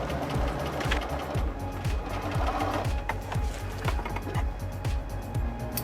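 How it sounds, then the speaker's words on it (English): A sewing machine stitches a Halloween puppy costume, running nonstop with a fast, even rhythmic chatter of needle strokes and a mechanical hum, loud and close. "I'm going to sew here, open for the tail"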